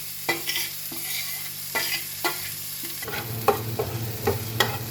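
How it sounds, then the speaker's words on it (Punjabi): Onion and capsicum frying in a pan, a steady sizzle broken by repeated scraping stirs with a spoon, growing louder and busier after a few seconds as the vegetables soften. "ਸ਼ਿਮਲਾ ਮਿਰਚ ਤੇ ਪਿਆਜ਼ ਦੋਨੇ ਆਪਾਂ ਹੁਣ ਪੂਰੇ ਸੌਫਟ ਹੋਣ ਤੱਕ ਪਕਾਵਾਂਗੇ ਇਹਨਾਂ ਨੂੰ"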